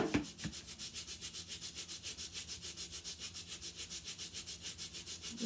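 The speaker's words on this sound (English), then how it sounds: "So I'm going to do a soft scrub." Soft rhythmic scrubbing of a scuffed shoe with shoe cleaner and a brush, steady even back-and-forth strokes, close and fairly quiet, with no talking.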